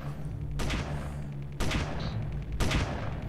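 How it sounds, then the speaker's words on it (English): Turret gunfire in the space combat game Space Engineers, three heavy rattling bursts of rapid shots about a second apart, loud and booming over a low rumbling background. "Whoever's shooting from the distance is missing horribly."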